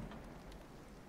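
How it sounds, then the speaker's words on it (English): Steady, dense rain of a worsening storm in God of War Ragnarok, with a continuous hiss and patter at moderate loudness and no voices. "Storm is getting worse."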